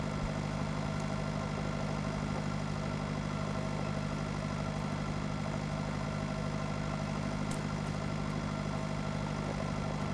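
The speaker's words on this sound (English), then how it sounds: "This is not a quick tractor." A slow tractor engine idles steadily in the Pure Farming 2018 farming game, a constant low rumble with a mid-range drone that holds at an even level throughout, with no voices over it.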